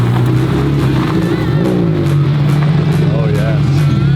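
An Aston Martin Valhalla with a twin-turbo V8 rumbles loud and close at a steady idle with light revving, while people talk over it.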